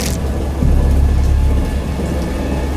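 A heavy thunderstorm roars steadily, with dense rain and a deep rolling rumble of thunder swelling in the middle and then easing back, loud and continuous.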